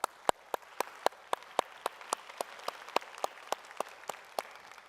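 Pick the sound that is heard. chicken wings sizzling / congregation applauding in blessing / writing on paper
congregation applauding in blessing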